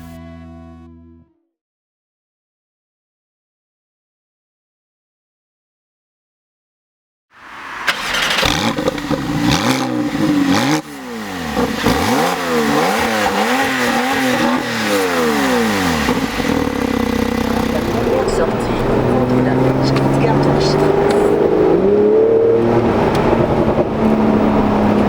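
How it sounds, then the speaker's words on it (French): Porsche 911 Carrera S (991.2) with its twin-turbo flat-six engine starts after a few seconds of silence and then revs hard and loud, pitch climbing and falling in repeated sweeps before settling into sustained acceleration, with no talking. "entendre le bruit de ce tout nouveau flat 6 faisant débat chez les puristes à cause du biturbo"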